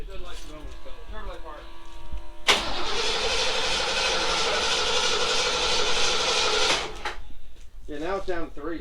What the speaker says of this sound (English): Sound a little rowdy. A little 1983 Ford Mustang.